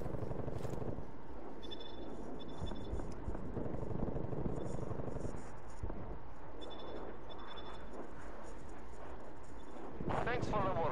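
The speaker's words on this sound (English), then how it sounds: "Multiple enemy spy plane contacts." A spy plane drones overhead in Call of Duty Cold War as a steady, low airborne rumble that lasts throughout, with faint radio-style game voices and beeps layered on top.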